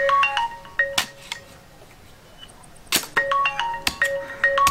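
A phone rings unanswered, repeated bright electronic ringtone bursts coming in two clusters with a quiet gap between, loud and close, no speech.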